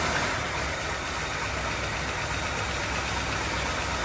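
A 1939 Cadillac engine, back running after decades apart, idles steadily in gear with a constant dense rumble and hiss, close and unbroken.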